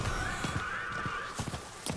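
A horse in the Diablo 4 video game makes a string of hoof clip-clops under a drawn-out whinny, fairly faint over a steady game background.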